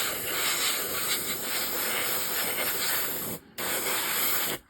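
Airbrush spraying AK dull aluminium paint onto a 1/48 Arma Hobby Sea Hurricane model plane, a steady close hiss that breaks off briefly before resuming.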